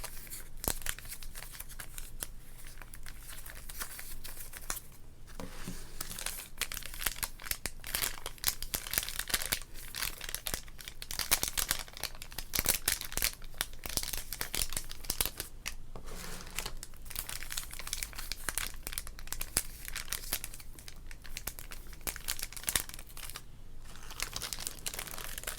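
A 1988 Donruss trading card pack is torn open, its wrapper crinkling and crackling steadily and closely for a long stretch, with no talk.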